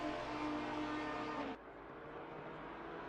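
A GT4-class race car engine in a sim racing endurance event at Barcelona, a loud steady engine drone that cuts off abruptly partway through, followed by quieter engine noise, with no talk.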